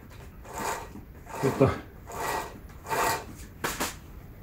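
A hand saw cuts through wood in steady rasping strokes, about five back-and-forth passes, close and moderately loud, with a brief spoken word mixed in.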